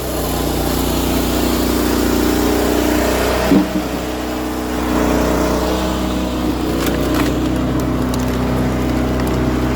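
A firewood processor's heavy engine runs steadily with a loud, constant rumble, briefly shifting pitch partway through, with faint clanks in the background.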